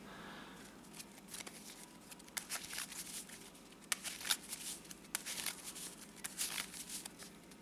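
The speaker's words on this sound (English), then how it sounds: "I'm going to go ahead and just shuffle the deck up and do a test hand" A deck of trading cards is shuffled in a quiet room, with soft, continuous papery riffling and flicking, irregular and close.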